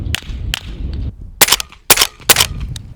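Keystone Lake Armory Ripsaw fired at a 50-yard target: two fainter cracks open, followed by three loud, sharp shots in a steady rhythm, with low rumbling background noise.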